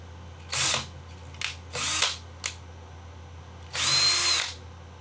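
A power drill boring a pilot hole in a teardrop camper, heard as four separate bursts: a short whir, two quick blips, a longer run, then one sustained final drill pass, close and loud with no talk.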